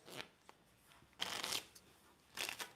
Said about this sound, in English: We'll give them a couple shuffles